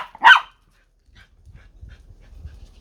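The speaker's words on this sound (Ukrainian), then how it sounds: "Ну, тільки гавкать мені." A dog gives a single sharp bark near a country dacha, followed by silence and then faint low rustling or panting sounds.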